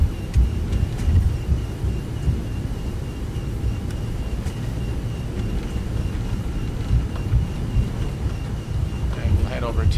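Rain falls at London Heathrow in the X-Plane 12 flight simulator, seen from a Toliss A321 airliner: a steady, dense hiss and patter running throughout with a low rumbling bed, close and fairly loud, with no voices.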